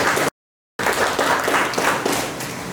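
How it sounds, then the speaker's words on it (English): Students in a classroom break into a round of applause for themselves, a dense patter of many hands clapping close by, cut by a brief dropout near the start. "Applaud for yourselves."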